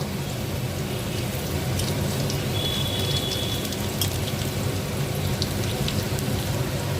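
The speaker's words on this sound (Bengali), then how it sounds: "পনির আলুটা আমি একটু হালকা করে ভেজে নেব" Potatoes are frying in oil left over from browning onions for chicken biryani, a loud, dense, steady sizzle that holds without pause and with no talk.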